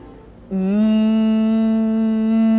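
A person imitates a trolleybus air compressor recharging, voicing a sudden, steady, buzzy hum that holds at an even pitch for about two seconds, close up and loud.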